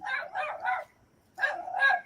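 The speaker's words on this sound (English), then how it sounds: "Yeah, that dog does not belong in there." A dog inside a rundown house barks in two bursts, three quick barks and then a pause before two more, close and fairly loud with nothing else heard.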